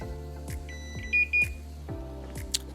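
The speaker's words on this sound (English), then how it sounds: "Now that's the timer on my hob." A kitchen hob timer beeps twice in short, bright pulses over a steady low electrical hum from the cooker, with a soft rhythmic knocking running underneath.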